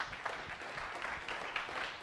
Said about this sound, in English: For one more round of applause.